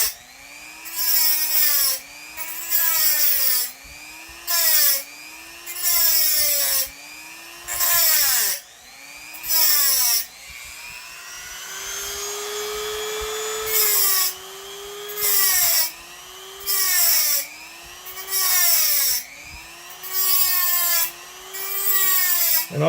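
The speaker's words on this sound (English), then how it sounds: "I just happened to pick the wrong blade to cut the tab off of. With the wrong Dremel." A Dremel rotary tool cuts a tab off a metal blade in repeated bursts. Each loud whining pass rises and falls in pitch, with short pauses between passes and one longer continuous cut in the middle.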